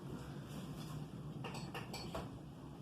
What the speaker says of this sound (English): Now I've already peeled the 2 bananas that we're going to be using. I'm just going to cut them up